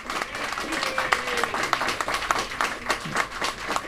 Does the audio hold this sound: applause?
yes